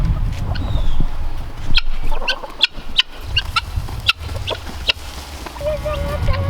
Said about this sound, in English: We got all the chickens, they saw me pouring the feed